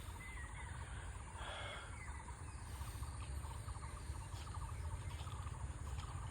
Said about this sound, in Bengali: আপনি হয়তো বিভিন্ন পাখির আওয়াজ শুনতে পাচ্ছেন।